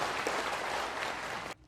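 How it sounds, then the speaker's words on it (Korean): An audience at a Vietnam War veterans' rally and special lecture gives a minister a short burst of dense, even applause that cuts off abruptly. "귀한 말씀을 주신 장관님께 다시 한번 큰 박수를 부탁을 드리겠습니다."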